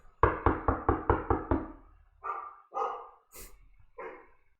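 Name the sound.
dog barking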